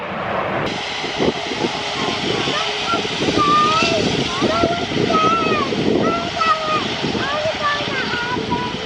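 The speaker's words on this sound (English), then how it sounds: "That right there was an Airbus A380." An Airbus A380 airliner passes overhead with a steady, loud engine roar that fills the whole stretch, with a few faint bird calls and rustling in the background.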